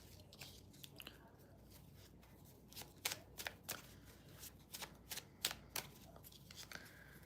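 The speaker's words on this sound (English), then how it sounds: "Let me just shuffle these." Tarot cards are shuffled by hand, giving soft riffling and sharp papery slaps in irregular bursts, quiet and close against a faint room hiss.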